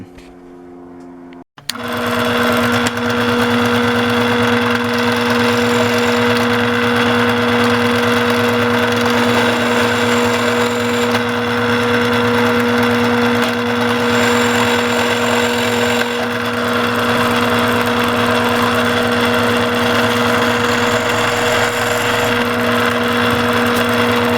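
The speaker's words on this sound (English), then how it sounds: "Now I'm going to cut out the hole for the eye on the drill press using a 1/2-inch bit." A drill press bores an eye hole with a 1/2-inch bit in a carved wooden olive rockfish; after a click, a loud, steady motor whine holds near and constant, with no talk.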